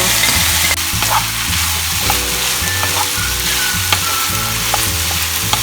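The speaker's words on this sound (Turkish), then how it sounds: "kuru soğan, biber, havuç iyice kavuralım" Onions, peppers, carrots and potatoes fry in a pan with a steady, close sizzle. It continues without a break under soft background music.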